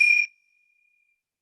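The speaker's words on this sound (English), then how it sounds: "I'm going to ring the bell like this." A small Tibetan or Indian bell is struck once, giving a bright, clear ding that cuts off fast and leaves a thin, high tone fading for about a second.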